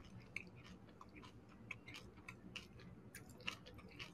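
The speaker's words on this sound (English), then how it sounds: "Yeah, we can hear you chewing, man." Someone chews food close to the microphone, giving quiet, wet, irregular clicks and smacks against a faint background, with no talk.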